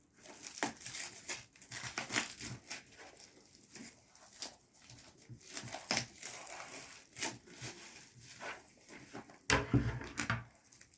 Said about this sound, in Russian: Пленку мы сейчас срежем.